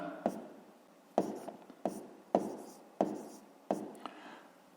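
Handwritten figures scratched onto paper in a fifth-grade maths lesson, as six short bursts of pen strokes, each opening with a light tap and fading out. Close and quiet, with nothing else over it.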